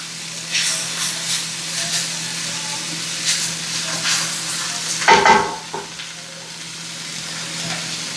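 Food sizzling and cooking down in a pan on a homestead stove, a steady low hiss with a brief louder crackle and stir partway through.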